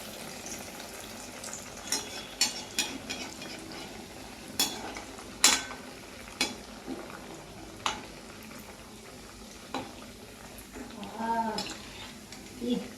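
Homemade fish fry pieces cook two at a time in a pan: a low frying hiss runs throughout, broken by sharp clinks and taps of a utensil at irregular intervals.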